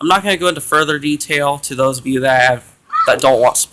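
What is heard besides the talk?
None of the usual background noises is heard.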